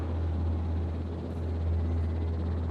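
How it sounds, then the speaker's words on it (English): A large transport helicopter arrives in the dinosaur park game Jurassic World Evolution, its low rotor throb pulsing steadily with a hollow engine whine layered on top, moderately loud and unbroken across the short stretch. "You can hear the big transport chopper coming in to lift him up."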